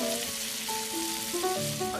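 Chicken dumplings sizzle steadily in a pan in a Courage the Cowardly Dog cartoon, the constant frying hiss layered under gentle melodic music.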